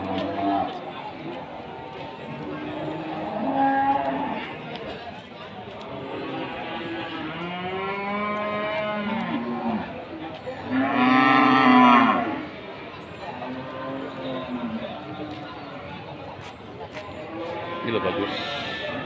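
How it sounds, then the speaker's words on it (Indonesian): Long-horned Simmental cattle mooing repeatedly at a busy livestock market, several drawn-out calls rising over crowd chatter and bustle, with people talking throughout. "Terus yang ini di deretan sapi-sapi."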